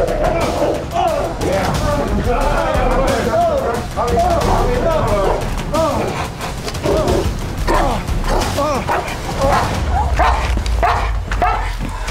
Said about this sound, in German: Dann kannst du auch mal sehen, wie der Hund dann reagiert.